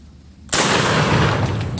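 A shotgun blast at a wild turkey on Florida public land, a single loud sudden boom after quiet, followed by a sustained roaring decay and echo.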